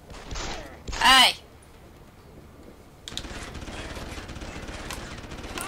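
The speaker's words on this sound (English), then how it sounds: "Who's shooting at me?" Gunfire erupts in Deus Ex: Human Revolution as a sharp, loud burst of shots near the start, followed by quieter game ambience with a voice groaning and speaking over it.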